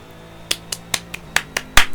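Six or seven sharp claps land in a steady, quick rhythm, close and crisp, with the last one the loudest.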